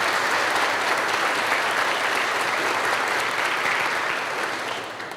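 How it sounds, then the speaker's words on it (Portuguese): A Catholic Mass congregation gives a loud round of applause inside the church. The clapping is thick and continuous from many hands, holds strong for several seconds and then tapers off at the close. "Vamos dar uma salva de palmas para essa igreja que é nossa"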